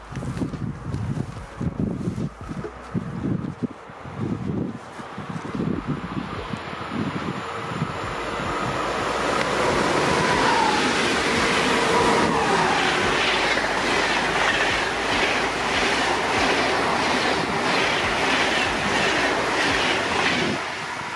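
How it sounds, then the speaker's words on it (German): IC1 train passing on the left Rhine line: an uneven rumble with wheel clicks builds into a loud, steady roar and rolling clatter as the train runs close by, with faint wheel squeal. "da kommt jetzt ein IC1."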